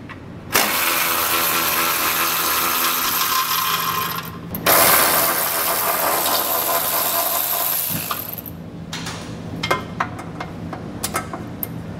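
A socket wrench or power tool works loose the hitch bolts on a 2019 Toyota Prius, giving a loud, steady mechanical whirr for several seconds, a short pause, another long run, then scattered clicks and clanks.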